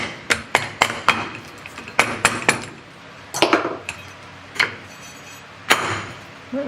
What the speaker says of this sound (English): Let's go tap on it with a plastic hammer.